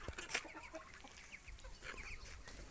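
Adler breed roosters cluck and call softly in a farmyard, short scattered calls over a faint, steady outdoor background.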